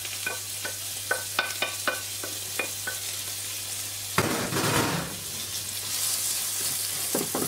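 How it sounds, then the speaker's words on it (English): Mushrooms, onion and garlic fry in a pan with a steady sizzle, broken early by several sharp clinks of a utensil against the pan, then a louder burst of hissing as the food is stirred. "And you want to give that a stir till it's melted, that the mushrooms are soft, the onion has gone translucent."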